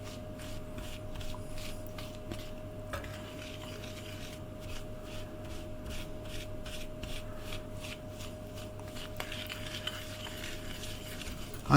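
Shortbread dough being worked by hand with flour, a soft steady rubbing and scraping rhythm that is close and quiet, with no talk.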